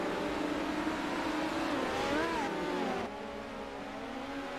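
Midget race cars roaring close together on a dirt oval during a track championship, engine drone steady and loud with pitch sweeps as several cars pass near, then the level dropping slightly as they move off.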